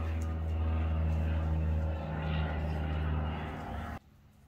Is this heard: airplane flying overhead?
yes